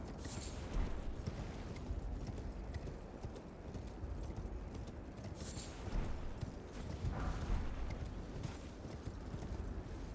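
Horse hooves clip-clop in a video game, a steady rhythmic trot heard faintly and continuously with no voices over it.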